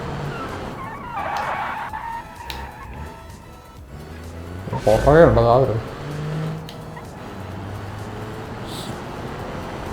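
Car engine in the BeamNG game with the BeamLR career mod, an old-model car on a race and crash day: a continuous engine drone with a brief tyre-squeal swell midway, heard under someone talking.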